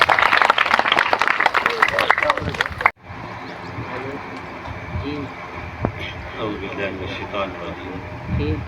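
Audience clapping at a school Independence Day show for Pakistan's 14 August celebration, dense and loud for about three seconds before stopping abruptly, after which a quieter room murmur and a voice follow.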